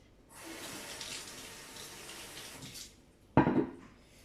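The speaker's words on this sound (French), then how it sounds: "Je rince ma petite bouteille." A small bottle is rinsed under running tap water: a steady faucet stream for several seconds, then a brief louder splash and clatter as the water stops.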